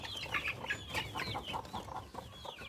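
Native chickens on a small backyard farm cluck and squawk in a rapid, busy jumble while scuffling with each other, fairly close, with no talk.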